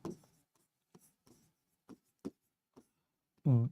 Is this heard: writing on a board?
yes